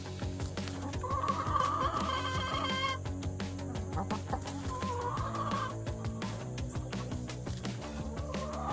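A flock of backyard chickens, hens among roosters, keeps up soft, steady clucking and murmuring close by, with a few louder drawn-out calls breaking through.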